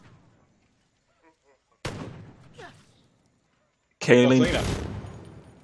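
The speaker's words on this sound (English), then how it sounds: "They're shooting at the volunteers." Gunfire in the video game Jagged Alliance 3, as enemies fire on allied volunteers: two loud, abrupt bursts of shooting a couple of seconds apart, each trailing off, with players talking between them.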